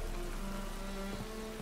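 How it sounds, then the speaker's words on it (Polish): Steady rainfall in the city of Novigrad in The Witcher 3 video game, a soft, even patter with faint tonal ambience underneath and no speech. "Niestety w Nowigradzie paskudnie pada."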